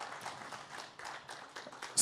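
A seated audience at a political gathering in Bihar claps faintly and steadily from a distance, with a sharp louder burst at the very end.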